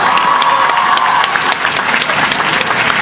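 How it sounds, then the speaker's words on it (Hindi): An audience at the Patna Women's College annual ceremony breaks into loud, sustained clapping that fills the hall without pause. "ये फिर बिना आपसे पूछे सब ताली बजा रही है"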